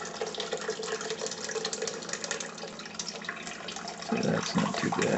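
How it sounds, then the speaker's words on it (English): Water trickles and splashes steadily as it drains out of a pot of pinto beans, then gurgles more heavily near the end, close by and moderately loud. "So I can get more water drainage out of there."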